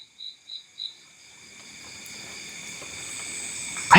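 Crickets chirping faintly in a quiet outdoor setting at a sendang spring, three short chirps first and then a thin, steady high trill over low background hiss, ending with a sudden bump.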